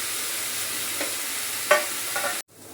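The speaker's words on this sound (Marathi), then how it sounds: "कांदा चांगला परतलाय." Onions sauté in a hot pan with a steady, bright sizzle and a few scraping stirs over it; the frying sounds close and even before cutting off abruptly near the end.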